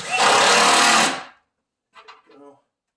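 A cordless power driver whirs briefly at close range, driving a screw to fasten a rollout track inside a base cabinet, then cuts off abruptly, followed by a couple of faint quiet clicks.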